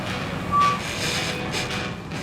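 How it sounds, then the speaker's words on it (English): A truck reversing at a zoo sanctuary gives a brief electronic beep over a rumbling engine and dusty road noise. "For some reason, we're trusting Aaron to reverse the truck."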